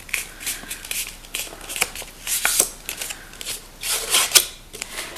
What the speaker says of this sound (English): So you are going to be folding this bit in half.